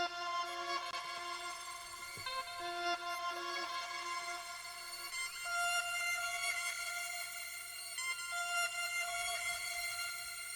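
Reverb-soaked synth melody phrase in an FL Studio beat, processed with Raum reverb on the Dark Sister preset: sustained harmonic tones shifting pitch every few seconds, washed into a long dark tail, alone with no talk.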